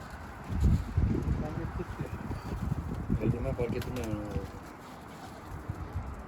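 Low pigeon coos rise and fall under steady talking and outdoor background noise at a coop, a few soft calls close by.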